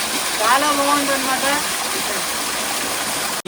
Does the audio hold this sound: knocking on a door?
no